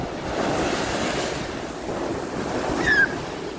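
Ocean waves along the Portuguese coast, a continuous loud wash of surf mixed with gusty wind buffeting close by, with a brief high chirp near the end.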